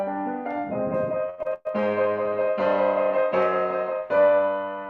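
Piano passage played during a masterclass: a sequence of rich sustained chords and notes with a brief pause partway through, close and clear with no talking.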